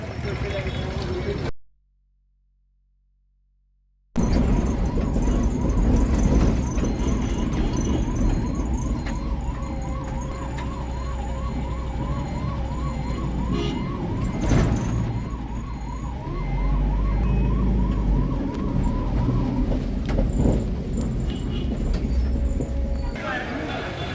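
An ambulance siren wails, rising and falling repeatedly in the background outside a hospital, steady and moderately loud beneath ongoing talk and street noise.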